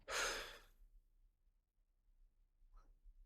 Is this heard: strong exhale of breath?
yes